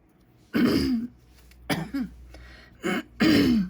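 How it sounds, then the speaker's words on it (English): Four harsh throat-clearing coughs in irregular bursts, close and fairly loud, with short pauses between them. "I'm not meaning to cough in you guys' ears."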